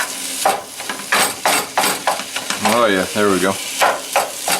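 Ground beef and onions fry in a pan and are stirred and broken up into chunks, giving a soft, close sizzle with stirring sounds under someone talking throughout.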